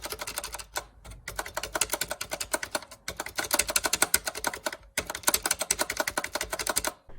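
A Redragon K582 mechanical keyboard with rattling stabilizers is typed on in quick, loud, clacky bursts broken by brief pauses, with the keystrokes up close and no voices.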